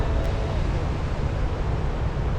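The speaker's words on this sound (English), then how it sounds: "let's go a bit further down and explore this waterfall together. It's so loud." Loud, steady roar of a large waterfall fills the scene from start to finish, a dense broadband rush of falling water with no break or change in level.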